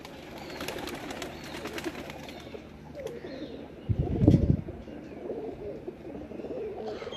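Pigeons on a rooftop loft coo in a brief low burst midway, set against steady outdoor ambience with faint distant chirps.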